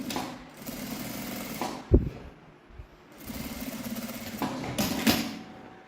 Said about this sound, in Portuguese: E aqui passar uma costurinha.